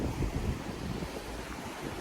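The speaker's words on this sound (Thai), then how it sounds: "ก็จะบังกล้องไว้นะคะเผื่อลมมันจะตีกล้องค่ะ" Wind buffeting a camera microphone at the seaside, a steady loud rushing roar with low rumbling gusts and a hint of surf behind it, continuous throughout.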